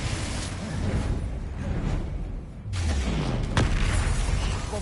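A Confringo fire spell blasts in Hogwarts Legacy with a booming burst, followed moments later by a second whooshing impact amid ongoing combat rumble.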